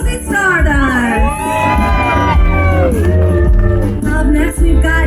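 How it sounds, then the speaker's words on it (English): An audience at a pin-up contest cheers, whoops and shouts loudly for an entrant, with high-pitched yells and screams layered over a constant roar that rises and falls. "Let Major Tom hear you cheer for Rosie Stardust!"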